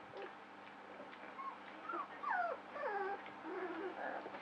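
A puppy whimpers and whines in a series of high, wavering cries, fairly close and soft, with a low steady hum beneath.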